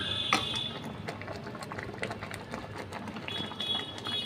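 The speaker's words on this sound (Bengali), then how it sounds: "টানিয়ে নিয়ে এবার দেখছো পায়েসটা ফুটছে।" Bengali rice kheer (payesh) bubbles in a pot on a gas stove with soft, steady popping and gurgling, quiet and close, with no talk over it.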